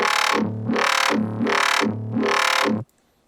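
Four rhythmic pulses of a buzzy, heavily compressed growling bass synth with a wah-like sweep, then abrupt silence.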